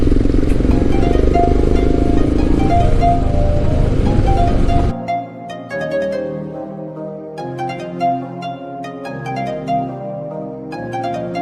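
Royal Enfield motorcycles on a weekend group ride, with loud, close, broadband engine rumble for about five seconds that cuts off abruptly, followed by quieter clattering, tonal sounds.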